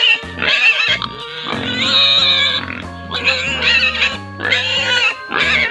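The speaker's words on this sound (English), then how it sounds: "Pig." A pig grunting and squealing in a loud, close, nasal series of bursts with short breaks between them, alone with no other sounds.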